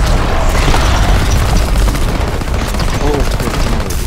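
Heavy gunfire in the World War 2 Nazi Zombies game, loud and relentless, with booming blasts and rapid shots packed together without pause.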